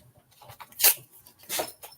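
A dog close by makes a few soft snuffling sounds, then two sharper snorts or sneezes.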